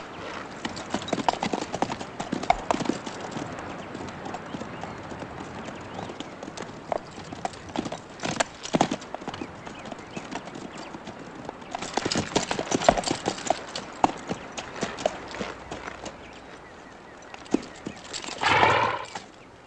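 Horses walk along with steady clip-clopping hooves in a Western setting, the hoofbeats close and rhythmic throughout, a brief whinny near the end, with faint background noise.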